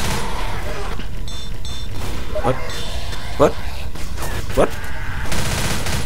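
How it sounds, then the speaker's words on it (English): Gunfire in the zombie shooter game Left 4 Dead: a few sharp, separated shots cracking out over several seconds amid game noise, with a player talking over it. "Shoot everything you see."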